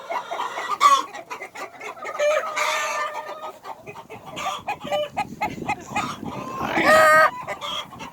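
Farm chickens perched on an elevated roost cluck steadily and close by, with overlapping calls and a rooster-like crow rising near the end, no talking.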